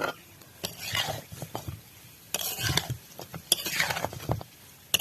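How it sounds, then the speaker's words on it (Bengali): Chicken fry and masala stirred in a pan, with a spatula scraping and clattering in uneven, close bursts over a soft sizzle. The louder strokes come in quick clusters separated by brief lulls. "এবার মশলাটার সাথে এটা ভালোভাবে আমি কষিয়ে নেব"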